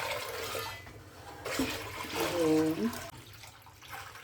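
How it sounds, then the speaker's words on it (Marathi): Water pours into a container of jowar (sorghum) flour, a steady watery rush heard close up with someone speaking over part of it. "आता याच्या तिप्पट आपल्याला पाणी घ्यायचं"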